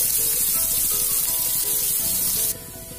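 Onions fry with masala in a pan for a drumstick varuval, a dense, steady sizzle and hiss that drops abruptly to a quieter crackle partway through, with faint music beneath.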